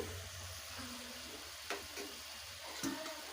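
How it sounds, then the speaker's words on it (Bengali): Poppy seed paste with eggplant being stirred and fried in a pan, giving a quiet, steady sizzle with a few soft scrapes of the spoon near the end. "পোস্তটাকে নেড়ে চেড়ে একটু কষে নিয়েছি"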